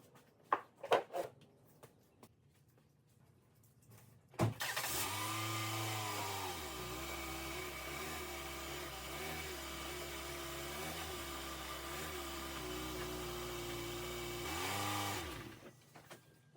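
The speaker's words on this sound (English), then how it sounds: "put one underneath each one of the tires and drive that thing up" A car rolls up onto a pair of ramps placed under its tires before an oil change, its engine running as a steady low drone for about ten seconds after a few sharp clunks, then cutting off.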